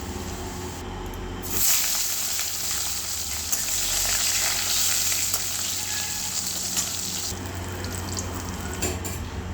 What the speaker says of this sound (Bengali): উচ্ছেটা ভেজে নেব